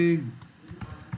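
A few quick, light keystrokes tap on a computer keyboard, scattered irregular clicks following the tail of a voice.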